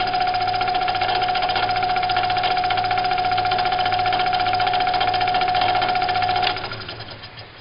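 A Delta scroll saw fitted with a modified blade clamp runs steadily with a rapid buzzing chatter and a clear whine. It keeps going at an even level, then winds down and fades near the end.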